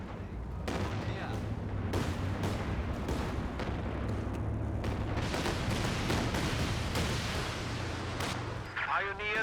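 Dense gunfire and booming artillery from a WWII-style war video game roll on almost without pause, loud and layered, with voices calling out now and then.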